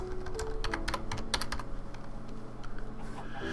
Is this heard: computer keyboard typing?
yes